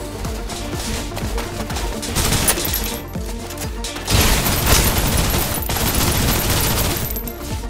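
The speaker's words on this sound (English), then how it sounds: "Suppressive fire." Suppressive gunfire in Snowbreak: Containment Zone pours out as a sustained, dense fusillade of overlapping shots and booms, heavy and close for several seconds.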